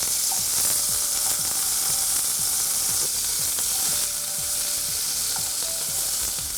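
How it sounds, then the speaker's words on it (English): Pork loin fillets sear in a hot pan with a loud, steady sizzle that holds evenly throughout, and faint utensil scrapes can be heard underneath. "we're only going to sear it for a few minutes"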